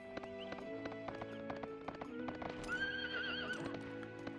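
Horse hooves clip-clop steadily in the Suikoden III video game, with a neigh rising near the end over background game music.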